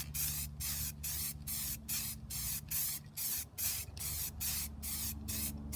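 A spray can lays a light coat of paint on a Camaro trunk plate in about a dozen short, close hissing bursts with brief gaps between them.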